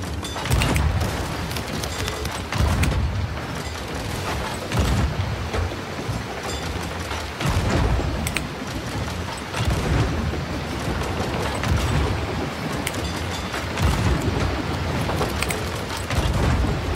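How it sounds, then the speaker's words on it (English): Repeated heavy cannon booms in the video game Sea of Thieves fire every couple of seconds, deep and thumping, with rumbling mechanical noise and crackle between the blasts. "I'll start firing off their cannons"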